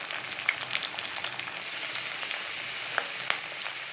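Snake gourd (pudalangai) pieces fry in oil in a pan with a steady, soft sizzle, broken by a few sharper crackles and pops. No one speaks.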